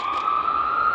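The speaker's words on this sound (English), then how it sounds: "Sorry about the sirens." A loud, steady police siren wail holds one high tone throughout, filling the whole moment without any other sounds on top.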